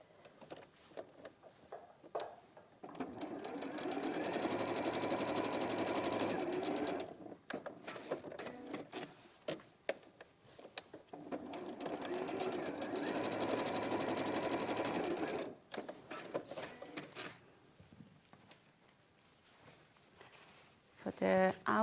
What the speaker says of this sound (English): I'm going to sew from here to there